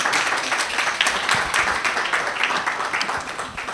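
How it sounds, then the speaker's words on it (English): Audience applause for the panelists at a high-level education forum, a steady dense wash of many hands clapping throughout, fairly loud and close, with no clear talk over it. "Clap hands for us, comrades."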